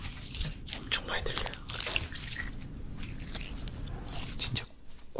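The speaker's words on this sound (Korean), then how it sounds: "고무 씹는 소리 나요" Close, wet chewing of a soft, rubbery Korean rice cake in a whispered ASMR setting, squishy bites and small pops repeating over several seconds with soft breathy voice sounds.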